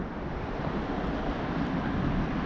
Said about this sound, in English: it's quite windy today, so hopefully that doesn't mess with the recording too much